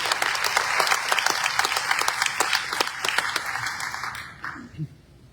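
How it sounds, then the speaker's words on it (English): A crowd at a South African election results announcement breaks into applause, steady clapping from many hands that dies away toward the end, leaving a few faint low sounds. "Let's give them a round of applause"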